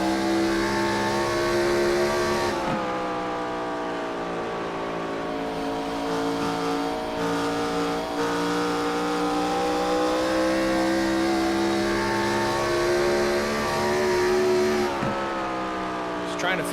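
Race car engine in the IROC Challenge Series racing game at Rockingham, a loud, sustained high drone that swells and dips with throttle changes and sharp gear-shift drops, under continuous commentary.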